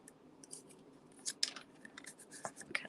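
Scissors snip through paper to cut out stamped images, giving a few soft, irregular crisp cuts and rustles close by, fairly quiet with small gaps between snips.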